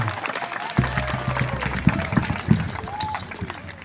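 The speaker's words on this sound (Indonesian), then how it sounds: "Tepuk tangan." Outdoor crowd clapping at a village Independence Day assembly in Lebaata, Indonesia, loose and uneven, mixed with chatter and background hubbub, with a few sharper claps standing out.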